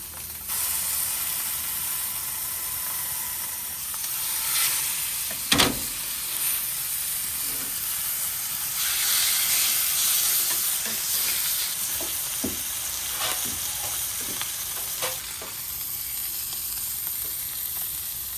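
Thin steaks sear fat side first in a hot cast iron pan, giving a steady, close sizzle and hiss of rendering fat, with a few sharp knocks and clatters along the way.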